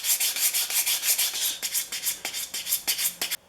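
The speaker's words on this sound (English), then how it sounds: "sand that tote with 150 grit paper going with the grain" Steady back-and-forth scratching of 150-grit sandpaper along the grain of a wooden hand plane tote, a quick rasping rhythm of strokes, close and fairly loud, stopping abruptly at the end.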